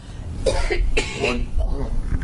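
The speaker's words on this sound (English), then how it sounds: "Is that cough always like that?" Someone nearby gives a few harsh, raspy coughs and throat-clearing sounds, mixed with strained voice.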